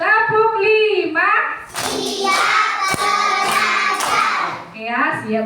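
A classroom clapping pattern led by a teacher, sharp rhythmic claps ringing out among children's voices and chatter in the room.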